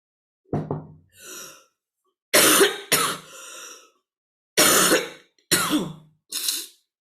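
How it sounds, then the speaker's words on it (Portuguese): Several harsh coughs in short bursts with pauses between, close to the mic, a throat-clearing rasp mixed in. "A tosse tá acabando comigo"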